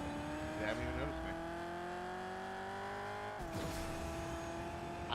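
A car engine in the video game Fortnite hums at a steady pitch while driving, with one shift in tone partway through and a steady ground rumble beneath it; no voices are heard.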